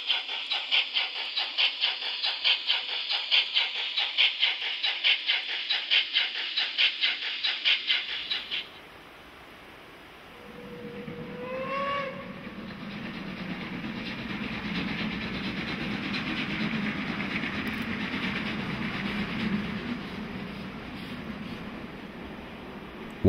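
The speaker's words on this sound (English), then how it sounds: "The most powerful Swiss steam locomotive is now also available as an oil-powered engine." A Märklin H0 model of the most powerful Swiss steam locomotive, oil-fired version, runs with a steady rapid clicking rhythm for several seconds, then falls to a softer, broader rumble with a brief rising whistle-like tone.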